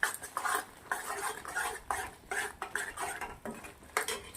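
A spoon scrapes and stirs paneer bhurji with ratalu (purple yam), fresh cream and garam masala in a pan, giving repeated rhythmic strokes, close and moderately loud, with no talking.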